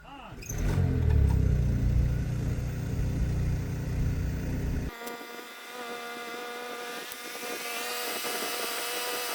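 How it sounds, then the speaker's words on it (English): A BMW supercar engine starts with a loud cranking burst, then settles into a steady, smooth idle hum, close by, with no talk. "3, 2, 1, engine on."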